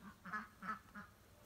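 Ducks quack faintly on a farm, a short run of about four nasal quacks in quick succession, distant and quiet.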